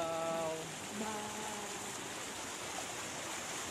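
Waterfall flowing through the white travertine caves at Pamukkale, a steady rushing hiss of water running alone at moderate volume after a brief tonal sound at the start.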